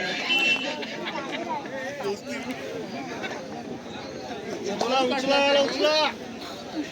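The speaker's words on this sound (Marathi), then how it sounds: "कृपया प्रेक्षकांनी ओरड करू नका" Spectators at an outdoor village kabaddi final in Anjarle, Dapoli, shout and chatter in a dense crowd hubbub, with a louder burst of yelling toward the end under an announcer's voice.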